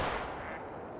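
Shotgun blasts at ducks in the hunting game Call of the Wild, a loud burst opening the moment and decaying into a rumbling tail, with no talking.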